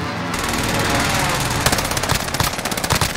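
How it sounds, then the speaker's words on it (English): Sustained automatic fire from a machine gun in Call of Duty: Vanguard Resurgence, a dense run of rapid, loud shots that grows choppier and more punchy toward the end. "Yo, who's the machine gun?"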